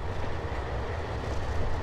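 Train rolling on rails in a railway simulator game, a dense continuous low rumble and rattle at steady loudness, with no speech over it.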